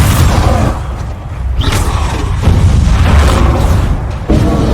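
Spell blasts from Bombarda and Confringo in Hogwarts Legacy boom out in a loud, continuous barrage of heavy thuds and bursts layered over battle rumble.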